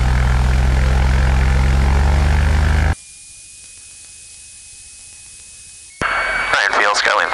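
A light single-engine propeller airplane departing a runway, its loud steady engine drone with propeller hum filling the start, then cutting to quieter cabin noise before the engine sound returns near the end.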